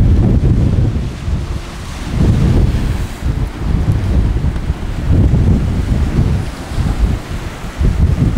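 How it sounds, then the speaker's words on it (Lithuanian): Strong gusty wind blows outdoors in Wellington, roaring loudly against the microphone in rising and falling surges with a deep rumble, and no voices are heard. "Vėjas tai daužo rimtai."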